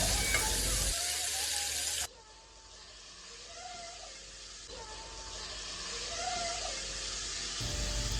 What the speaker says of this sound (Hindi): इसको डालकर अच्छी तरह से इसको फ्राई करेंगे।